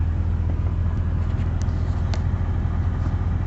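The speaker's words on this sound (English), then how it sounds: "I'm pressing the AC button, and you see that RPM dip, so you definitely know that compressor is kicking on" A 1991-96 Honda Prelude engine idles in a steady, low, continuous hum with the A/C compressor clutch engaging; the drone stays even throughout, with only a faint click or two above it.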